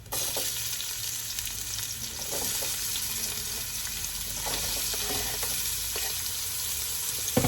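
Garlic is frying in a pan while a bean thread and mussel dish is being cooked, giving a continuous bright sizzle with occasional small pops and light scraping underneath, no talking.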